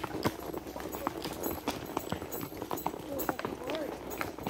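Shod horse hooves clip-clop at a walking pace on a rocky trail at Love Valley, North Carolina, a steady uneven clatter of hoof strikes on stone close by, with scattered faint outdoor sounds around them.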